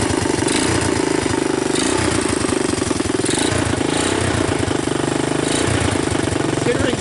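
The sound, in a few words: Honda TRX 200 ATV engine running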